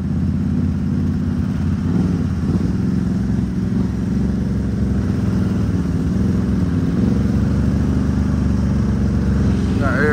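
An ATV with a V8 engine runs steadily throughout, a loud continuous low engine drone close by, with some background voices under it.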